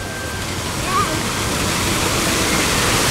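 Water pours and splashes steadily at a water park, a loud, close, unbroken rush with a brief voice heard faintly under it.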